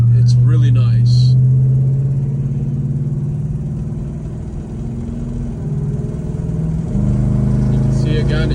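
A 1970 Dodge Charger R/T SE's V8 engine rumbles steadily, then the automatic transmission kicks down and the revs jump near the end, with brief voices at the start and finish.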